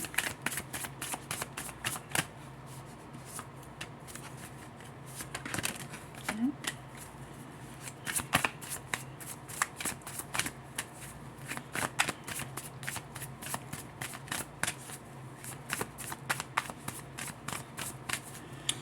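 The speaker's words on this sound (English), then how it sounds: "As I'm shuffling these cards" Tarot cards are shuffled repeatedly up close, producing quick riffling flutters and soft snaps in an irregular rhythm, with a quiet voice speaking underneath.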